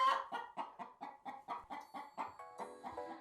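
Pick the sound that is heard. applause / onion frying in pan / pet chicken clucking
pet chicken clucking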